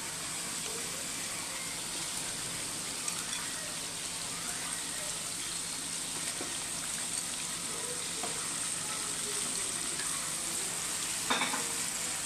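Chicken pieces fry in a pan of cooked spice paste, a steady loud sizzle with scraping stir strokes close by and an occasional clink near the end, without any talking.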